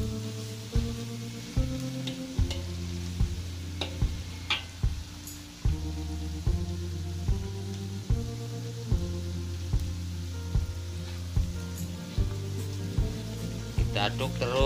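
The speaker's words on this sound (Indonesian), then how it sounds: "Kita aduk biar sampai bawang putihnya matang atau mengeluarkan aroma" Garlic sizzling and frying in a pan as it is stirred for egg martabak sauce, a steady close crackle broken by regular clinks of the utensil against the pan.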